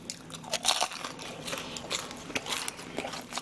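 Loud crunching bites into crispy soy-sauce sweet and sour fried pork, followed by several crackly chews close to the microphone, with no speech.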